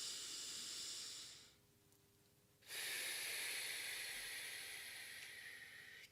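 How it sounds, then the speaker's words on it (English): Deep breaths drawn in through the nose and released through the mouth, a long airy hiss that fades to a quiet pause, then a strong sustained exhale, close and alone. "begin breathing nicely and deeply in through your nose and out through your mouth"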